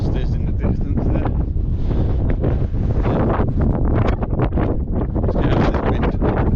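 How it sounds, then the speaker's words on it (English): Strong wind batters the microphone out on open Bodmin Moor, a loud, continuous roaring rumble that surges and dips without a break. "Let's get out of this wind."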